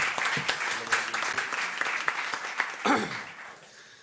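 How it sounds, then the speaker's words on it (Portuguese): Hand clapping from an audience in a legislative plenary session in Osasco welcomes the vice-mayor, a sustained wash of applause with a few louder bursts and some voices, tapering off near the end. "Com uma salva de palmas."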